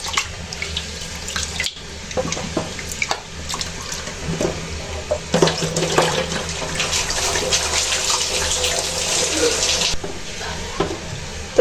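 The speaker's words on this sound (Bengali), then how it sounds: "তো চালগুলো আমি একটু ভালো করে ধুয়ে নেব" Rice for payesh is washed under a running tap, with a steady, close rush of water into a pot and bursts of sloshing and swirling that grow louder midway before cutting off, then a few small knocks.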